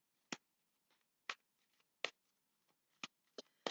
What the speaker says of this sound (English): I'm going to start shuffling and tuning into your name and his name.